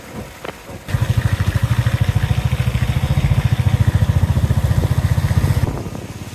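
A motorcycle engine idles close by with a fast, steady thumping rhythm, starting after a brief pause and cutting out near the end.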